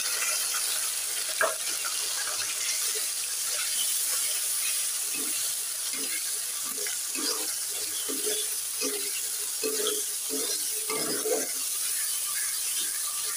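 Spices frying in oil over onions for a chicken curry on a home stove, a steady broadband sizzle throughout with scattered clicks and scraping stirs, close and moderately loud, with no talking.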